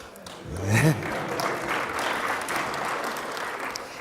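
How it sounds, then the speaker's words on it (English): Audience applause fills the room after a technical talk, a dense wash of many hands clapping that swells briefly near the start, then holds steady and fairly loud throughout, with a short voice near the beginning. "you can wait for the applause for another couple of seconds"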